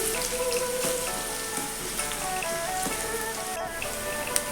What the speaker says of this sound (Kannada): ಎಣ್ಣೆ ಕಾದ ನಂತರ ಈರುಳ್ಳಿ ಹಾಕಬೇಕು. 1 ಈರುಳ್ಳಿ ಫ್ರೈ ಮಾಡಬೇಕು.